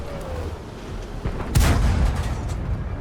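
A tank gun fires in a video game: one sudden boom with a low rumbling tail midway through, over a steady background engine drone.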